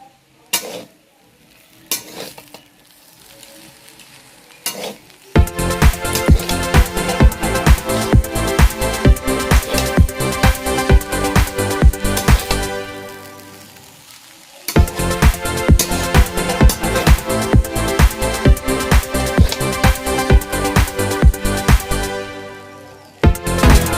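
A spatula stirs chow mein noodles with tomatoes in a hot sizzling pan, giving loud rhythmic scraping and clinking strokes over steady frying. The stirring stops briefly midway, then resumes.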